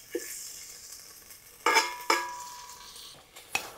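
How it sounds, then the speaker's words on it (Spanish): Garlic fries in a little oil in a pan for a chicken stew, heard as a quiet background sizzle broken by several sharp metallic clinks and scrapes of a utensil stirring, with no talking. "Vamos a sofreír o vamos a dorar los ajos."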